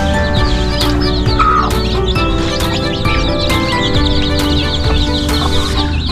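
Chickens cluck steadily and loudly, with other fowl joining in now and then, all close by in a busy backyard poultry pen.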